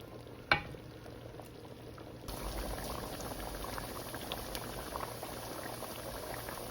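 A pot of haleem simmers and bubbles, soft thick blips popping nearby, with a single sharp knock early on, before the bubbling grows fuller and louder and carries on steadily.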